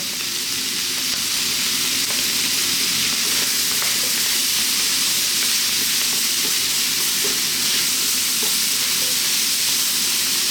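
Chicken stir-frying on maximum heat for spicy Indian-style noodles, a loud continuous sizzle and crackle with scattered stirring clinks throughout, no voices.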